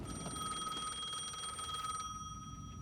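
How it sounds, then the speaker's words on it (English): A payphone in the video game Alan Wake 2 rings with a steady, bright electronic bell tone that trills continuously, moderately loud over a low ambient hum, with no talk. "the payphone was ringing"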